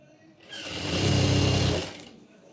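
A sewing machine stitches the waistband of palazzo pants at a half-inch seam, running in one steady, close burst of rapid needle chatter that swells and then stops.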